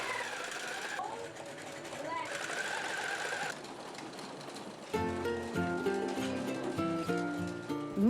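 Sewing machines running during a children's sewing class at a studio in Vienna, heard as a steady mechanical whirring with shifts in speed and pitch, under a voice talking and later music.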